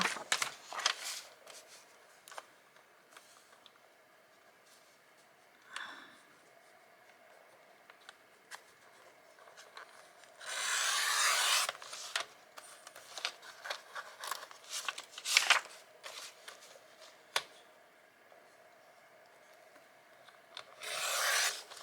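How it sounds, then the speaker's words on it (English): Scissors snip through paper to trim off a white border, with quiet rubbing and rustling throughout and a few louder bursts of cutting, close and fairly faint, with no talking. "I'm going to cut the white border off."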